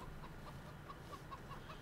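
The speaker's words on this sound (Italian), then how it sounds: "Ah, che bei polli che ho." Chickens in the Farming Simulator 2017 video game, producing a steady series of faint, evenly spaced clucks over a low background hum.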